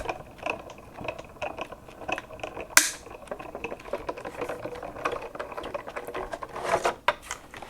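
A small Artisan Explorer die-cutting machine runs close by, giving a steady mechanical whir with ratcheting clicks and a sharp snap partway through.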